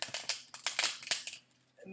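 Tarot cards are shuffled in a series of quick, crisp riffles and snaps, close to the microphone, with a short pause near the end.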